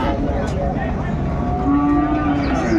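Friesian and crossbred bull calves low and moo at a farm in Gazipur, a steady loud bellow with a sustained tonal drone running through the whole stretch, no talk over it.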